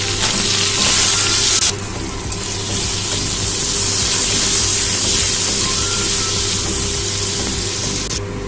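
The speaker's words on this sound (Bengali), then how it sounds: "এবারে কিছুটা পেঁয়াজ আমি ওর মধ্যে ভেজে নেব।" Onions frying in hot oil that already holds cinnamon, cloves, cardamom and cumin, a loud continuous close sizzle that keeps going for several seconds, briefly dipping before rising again, with no talking.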